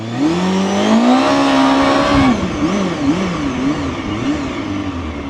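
A motorbike engine drones close by while riding, its pitch rising with acceleration, then wavering up and down as the bike moves along at varying speed, with no speech over it.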